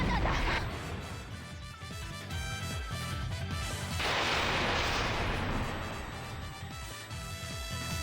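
Gunshot effect in a visual novel game, a loud burst of gunfire and crashing impacts over a dense, continuous game soundtrack.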